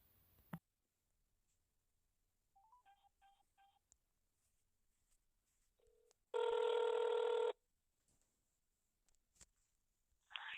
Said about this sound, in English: Now it's time for me to make the phone call.